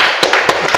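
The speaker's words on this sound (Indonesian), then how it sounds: "Ayo, tepuk tangan semuanya." A classroom group applauds together at a teacher's prompt, a short burst of scattered hand claps with a few sharper slaps standing out, close and fairly loud.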